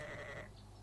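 A sheep bleats in the survival game 7 Days To Die, a single short, wavering call lasting under a second, fairly clear against a faint background.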